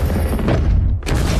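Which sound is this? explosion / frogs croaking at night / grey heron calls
explosion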